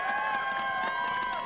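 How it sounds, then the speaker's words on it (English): Crowd applause at a vigil on Parliament Hill in Ottawa for the anniversary of Russia's invasion of Ukraine, a steady wash of clapping and cheering that fills the whole moment with no pauses. "And while you're applauding"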